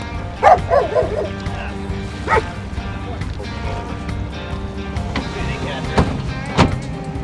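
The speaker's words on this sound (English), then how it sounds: "We even got dogs this morning." A few dogs bark in short yaps over a steady jet boat engine rumble, with scattered barks early and louder ones near the end.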